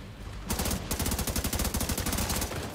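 Sustained automatic gunfire in The Division 2 video game erupts after a short lull, a loud, rapid stream of shots broken by a brief pause before rattling on steadily to the end.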